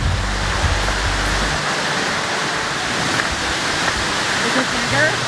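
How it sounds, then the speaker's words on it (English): A large waterfall at Cloudland Canyon roars steadily and close, a dense unbroken rush of falling water with a low rumble fading after the first moments. "this waterfall is bigger than Cherokee Fall"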